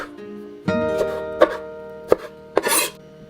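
A knife chops raspberries on a cutting board in a few sharp, separate knocks, spaced unevenly and heard up close over a faint background hum.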